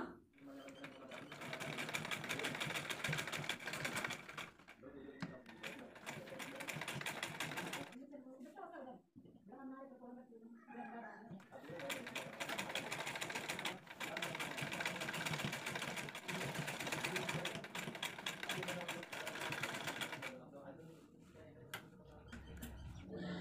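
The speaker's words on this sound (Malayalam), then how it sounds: "ഈ ഒരു ലേസ് നമുക്ക് നെക്കിൻ്റെ ചുറ്റും ജസ്റ്റ് ഒന്ന് അടിച്ചു കൊടുക്കാം" A sewing machine stitches lace around the neckline of a frock-style nighty, whirring in long continuous runs with a brief pause midway; a person talks over the machine.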